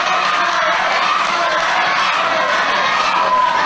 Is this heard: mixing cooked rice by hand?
no